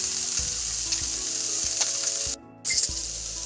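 Food sizzling as it browns in a pan over medium-high heat, a bright steady frying hiss with a few light stirring knocks and a brief break near the end.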